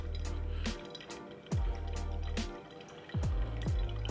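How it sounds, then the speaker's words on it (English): Hot water trickles slowly onto coffee grounds in a V60 pour-over dripper, a soft close stream that pauses and resumes in short pours, with faint drips and gurgles in between. "we're going to start gently pouring in the center and making nice small circles all the way to the outside of the grinds"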